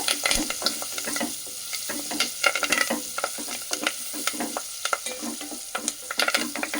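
Onions with a pinch of turmeric sizzle steadily in a pan while a spoon stirs and scrapes through them in irregular clicks, close and moderately loud with no talking.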